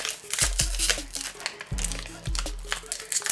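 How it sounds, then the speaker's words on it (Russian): A plastic packet of collectible toys being torn open by hand, giving close crinkling and rustling in several bursts with low thumps from handling. "Ох, пакетик открывается."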